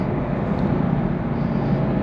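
A 2021 Chevrolet Camaro with a manual transmission holds a steady, loud engine drone in sport mode through a no-lift shift, the low rumble continuous with no break in power across the change.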